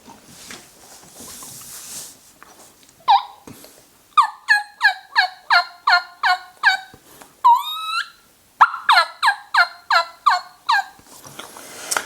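A hunter working a turkey call to imitate hen yelps: a series of about a dozen sharp, evenly spaced yelps, each breaking from high to low pitch, loud and close, with a brief squeaky run in the middle.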